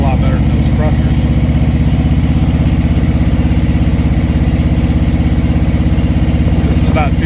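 An engine runs steadily at about 2,000 RPM, giving a loud, even, throbbing hum that holds constant throughout with no other sounds.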